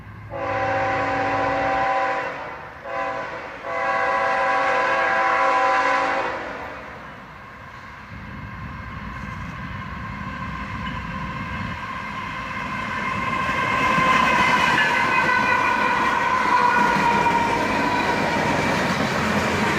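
A train horn blasts several times, then a long southbound Union Pacific and Canadian National tanker freight train rumbles and clatters steadily past in Carlisle, growing louder as the cars roll by.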